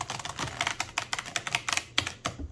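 Quick, light clicking and riffling of tarot cards being shuffled, a rapid irregular patter close by, with no talking.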